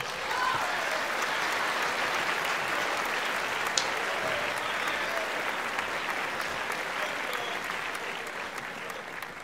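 Sustained audience applause fills a hall during an awards ceremony at a carnival music awards show, a dense steady roar of many hands clapping throughout without pause.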